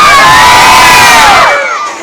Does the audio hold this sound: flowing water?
no